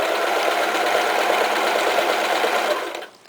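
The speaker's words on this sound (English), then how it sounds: "slide the pin out, and continue stitching" A sewing machine runs steadily while stitching fabric for a beginner eye pillow, a continuous close, loud mechanical whir that winds down and stops near the end.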